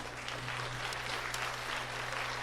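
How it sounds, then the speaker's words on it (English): A crowd claps with delight in a steady, dense wash of applause, held at an even level from start to finish with no voices standing out. "The crowd clapped with delight"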